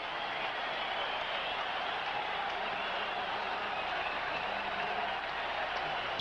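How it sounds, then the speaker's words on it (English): Stadium crowd at a Toronto Blue Jays home game against the Royals, a steady wide roar of cheering and applause held at an even level throughout, distant and diffuse with no single voice standing out. "Listen to the crowd."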